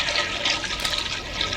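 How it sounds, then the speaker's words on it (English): A toilet flushing in a cartoon scene, a loud continuous rush of swirling water that fills the moment steadily with no talk over it. "You flushed my purpose!"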